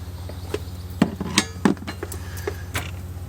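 Metal O2 sensor socket and wrench snugging down an oxygen sensor on a 2004 Subaru Outback, giving a few sharp metallic clinks and taps over a steady low hum.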